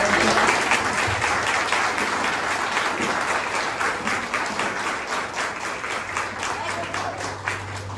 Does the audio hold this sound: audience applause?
yes